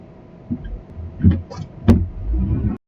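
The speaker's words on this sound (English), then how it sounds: "listening to footage captured when I was driving in a car with it" Inside a car on the road, recorded by a myGEKOGear Moto Snap dash cam: a low, muffled engine and road rumble with a few soft thumps and bumps before the sound cuts off abruptly.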